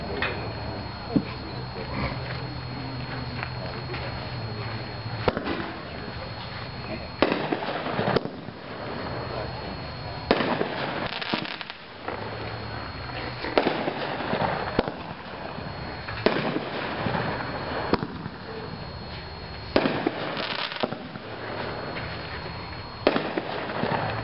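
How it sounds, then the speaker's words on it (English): A Cannon Blue Boom 10-shot firework cake fires outdoors at a product demonstration, sending a series of sharp booming launches and bursts spaced a few seconds apart, loud and fairly near, with faint background noise between shots. "Next up, we're going to do a 10 shot from Cannon,"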